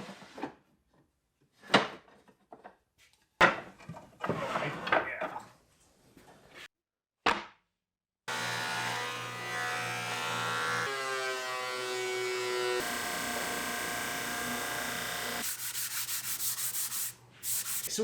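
Woodworking machines milling wood sample pieces for a stain test, first as short separate bursts of cutting and rubbing, then a long steady machine drone with a changing whine, loud and close, with no talk.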